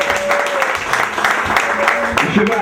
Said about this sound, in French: Sur votre acclamation